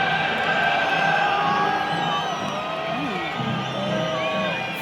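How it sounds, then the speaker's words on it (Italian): Barcelona supporters roar as the teams walk out for a Champions League match against Napoli. A huge stadium crowd keeps up loud cheering, whoops and shouts, with whistles and chanting tones riding over the dense noise. "Entrano le squadre in campo con un boato incredibile dei tifosi del Barça"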